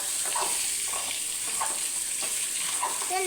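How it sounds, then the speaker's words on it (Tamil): Eggs sizzling in oil in a pan for egg biryani, a steady close frying hiss with faint stirring scrapes throughout. "நல்லா போட்டு வறுக்கணும்"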